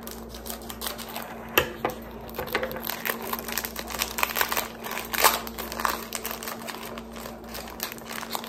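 Plastic packaging being cut open on a hot day while shopping, with close crinkling, crackling and snipping sounds in irregular bursts, fairly quiet, with no talking.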